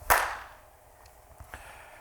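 A single sharp hand clap at a Sunday church service, close and bright, followed by a faint second tap about a second later in an otherwise quiet room.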